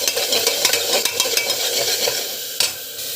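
Ground paste being sautéed and stirred in a pan for a pregnancy-diet dish, a steady close sizzle broken by repeated scraping strokes of a spoon against the metal, with no talk.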